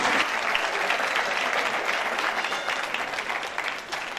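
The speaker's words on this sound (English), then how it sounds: "Let's give a round of applause." Sustained applause from a pageant audience, dense and steady throughout, close and loud, slowly easing toward the end with no voices over it.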